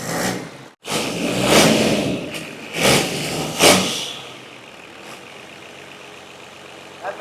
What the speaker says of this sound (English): That's the Cummins.